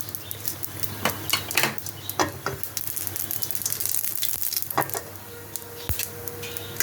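Whole dried chilli, bay leaf and radhuni hit hot oil for a bottle gourd dish, giving a crackling sizzle under sharp clinks of utensils against the pan, close and busy, with no talking.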